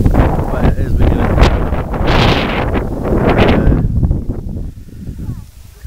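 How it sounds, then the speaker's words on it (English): Strong wind roars across a microphone on Makulot Mountain, loud buffeting gusts that ease toward the end, with no speech. "Still very windy"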